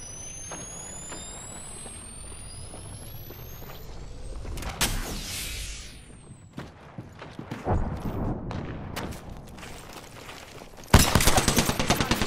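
Apex Legends gunfire, scattered shots and short bursts building in intensity, ending in a loud close burst of rapid fire, with whooshing and mechanical game noise between.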